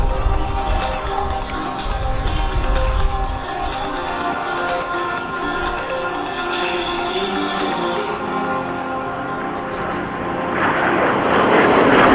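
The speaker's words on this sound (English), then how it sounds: "The 3 ship again led by the T-33, and on its wings the L-39s and the chase plane" A T-33 jet leads two L-39 jets and a chase plane in a three-ship formation at an air show, a loud sustained jet roar that swells toward the end as they pass close.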